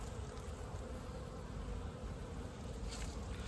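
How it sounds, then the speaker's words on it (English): Honey bees buzz around outdoor hives in a dense, continuous drone of many insects, with individual bees passing close over a steady background hum. "Always that one bee that just keeps bumping you over and over and over."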